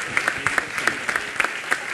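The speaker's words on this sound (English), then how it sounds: "One round of applause for Tom Kovar and his wife Karen." Brief audience applause for a couple at a session gathering, with scattered, uneven claps from a modest group at moderate loudness.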